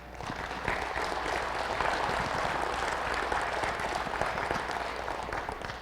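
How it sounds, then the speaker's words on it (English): A farm-show audience applauds two farmers on stage, a steady, even wash of clapping at moderate distance that holds for the whole stretch. "help me give these gentlemen a round of applause"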